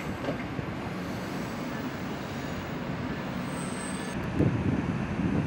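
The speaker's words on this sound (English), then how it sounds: "Train running through Chicago." A South Shore Line train runs through Chicago as a steady, moderately loud rumble of wheels and cars on the rails. City traffic noise sits in the background, and no voices are heard.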